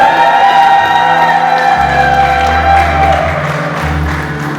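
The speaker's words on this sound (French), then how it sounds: "est-ce qu'on peut les applaudir encore?" Wedding guests at a civil and religious ceremony applaud the couple, a crowd clapping and cheering with whoops, fairly loud and sustained, over a low musical hum that swells partway through.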